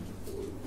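A pigeon coos softly in a pigeon loft, one short low murmuring call close by over faint background noise.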